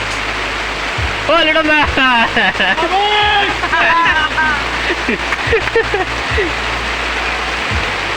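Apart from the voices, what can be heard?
heavy rain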